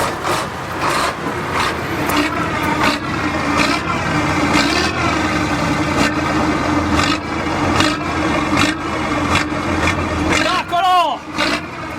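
Old FIAT 642 N2 truck's diesel engine revving under a heavy, continuous rumble with rattling and scraping textures, while people talk loudly over it throughout.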